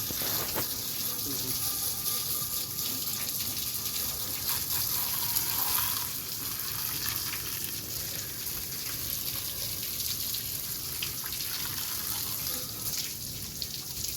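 Water running from a tap at a house, a steady broadband rush that continues throughout at moderate level, with people talking faintly in the background.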